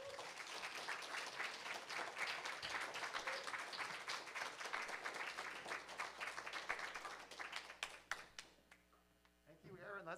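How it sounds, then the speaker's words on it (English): Audience applause for author Aaron Aceves at a faculty reading, dense clapping that fills most of the stretch, then thins and fades near the end with a few scattered claps. "Let's have some more applause for Aaron Aceves."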